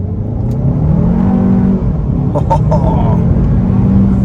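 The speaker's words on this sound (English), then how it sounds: "One more time, we'll try a sport mode acceleration." A 2024 Hyundai Kona N-Line launches hard in sport mode from first gear with slight brake torque, its engine note rising loud and close through the gears, a brief exclamation over it and a faint rattle from the dealer plate.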